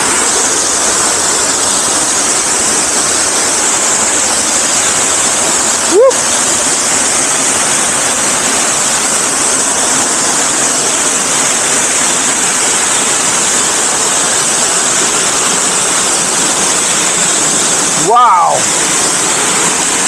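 Loud, steady roar of rushing water from a waterfall on an island in Ontario, Canada, constant and close, with a couple of brief vocal exclamations breaking through.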